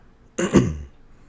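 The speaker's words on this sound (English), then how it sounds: "I'm coughing and clearing my throat" A single short, rough cough blends into a throat clearing, close and fairly loud, with quiet before and after.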